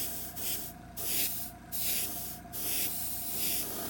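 An aerosol can sprays paint onto a Strike King XD8 crankbait in a Rayburn Red pattern, giving steady close hissing broken by three brief gaps between bursts.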